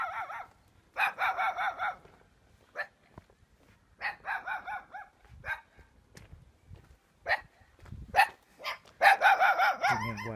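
Dogs bark repeatedly in a rural Mekong Delta village setting in Cai Lậy, Tiền Giang, Vietnam, loud bursts in several clusters across the clip, with faint background noise and a possible fowl call.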